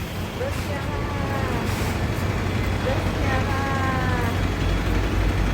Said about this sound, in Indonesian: Bus. Bus